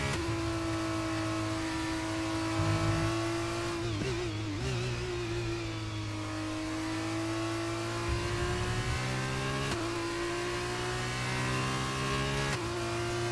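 Formula 1 car engine on a lap in the F1 23 racing game, a steady loud droning whine with slight dips and pitch sweeps as the car lifts and reaccelerates through corners.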